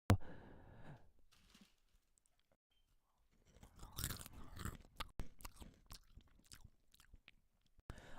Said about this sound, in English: I love how the chips is so crunchy.